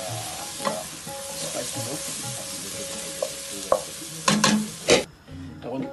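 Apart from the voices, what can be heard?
onions frying and being stirred in a pan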